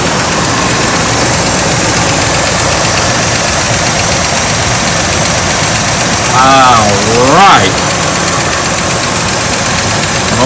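A 1966 Chevrolet Caprice engine under restoration idles loudly throughout with a rough, constant rumble, and a voice speaks briefly over it partway through.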